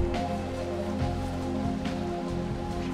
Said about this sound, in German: Da unten höre ich es auch schon plätschern.